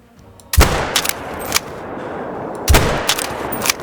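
Rifle shots aimed at a red fox while hunting in the video game Call of the Wild: two loud, sharp reports, each trailing into a rolling echo, with smaller cracks in between and no voices.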